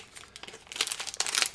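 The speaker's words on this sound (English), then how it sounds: "I can get this, rip it open without damaging the cards." A wax pack of football cards is torn open, producing close, loud crinkling and ripping of wrapper that builds in intensity over a brief stretch.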